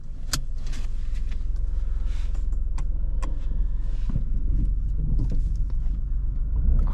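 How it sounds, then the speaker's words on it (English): A Dacia Sandero with a 1 litre TCe turbocharged petrol engine starting from the driver's seat at night, a steady low rumble throughout with a few sharp clicks and a jangle of keys, close and fairly loud. "Let me start the car."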